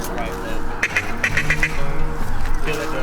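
Ducks quack in a short burst of several calls during a Mississippi Delta duck hunt, heard under hunters talking nearby.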